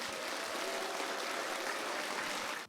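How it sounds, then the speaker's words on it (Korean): An audience at a brain science lecture applauds a professor, producing a dense, continuous wash of many hands clapping at moderate volume that runs steadily for nearly three seconds before cutting off. "큰 박수 부탁드립니다"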